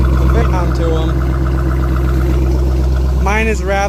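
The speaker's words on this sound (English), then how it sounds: "Mine is rather loud since it has the off-road H-pipe and Borla attacks" A 2007 Mustang GT V8 with an off-road H-pipe and Borla mufflers idles loudly nearby, a deep continuous exhaust drone with a voice speaking over it.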